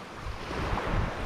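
Steady wind blowing across a sandy beach during shore fishing, with a continuous broadband rush and low rumbling buffets blended with surf wash, moderately loud and unbroken, with no talking.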